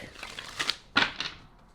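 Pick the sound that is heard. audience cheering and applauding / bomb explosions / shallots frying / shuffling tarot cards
shuffling tarot cards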